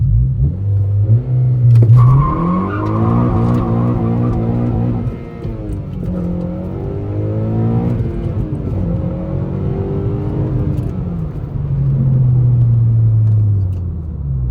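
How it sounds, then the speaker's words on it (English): A 2013 Honda Civic Si launches hard from a stop and accelerates, its engine revving up through the gears in loud, rising sweeps with brief dips at shifts, heard close from inside the cabin. "I'll try to launch the car here."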